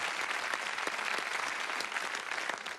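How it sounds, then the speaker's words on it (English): A studio audience at a 1990 television game show breaks into a steady round of applause, dense sustained clapping with no voices over it. "give a nice round of applause"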